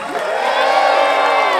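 An audience at a cannabis budtender quiz show erupts in loud cheering, with a rising whoop near the start swelling into a thick, continuous roar of shouts and clapping.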